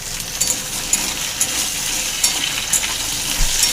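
Cut taro pieces frying in hot oil for a fish curry, a loud close sizzle with repeated light metallic clinks and crackles scattered throughout, no speech.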